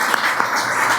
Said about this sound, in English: So I think just a round of applause for them.